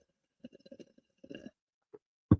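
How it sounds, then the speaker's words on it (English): A few short, wet slurping sips up close, quiet bursts with pauses between, ending in a louder slurp. "let's have another noisy slurp right now"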